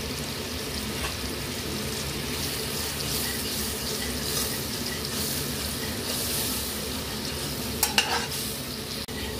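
Spiced masala with whisked sour yogurt and Kashmiri chilli powder frying in oil in a pan, a continuous close sizzle with stirring scrapes and a couple of sharper clinks near the end.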